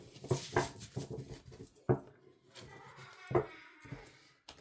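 A pet dog whimpers indoors in a home bedroom, giving several short, whiny cries in uneven bursts that sound close and moderately loud, with quieter gaps between them.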